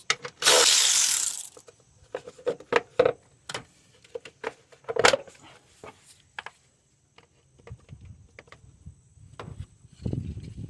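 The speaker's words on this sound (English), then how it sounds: "I'm gonna remove this 10mm bolt" Ratchet wrench turning a 10mm bolt on the 2.4L engine of a 2003–2012 Honda Accord, with bursts of quick clicking and metallic ticks, close by, broken by short pauses and a few clunks.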